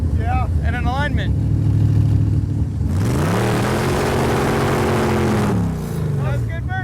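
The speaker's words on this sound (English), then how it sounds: "That's good burnout." A car engine revs hard in a burnout with a sustained rising roar and tire squeal, loud and close, with people talking before and after.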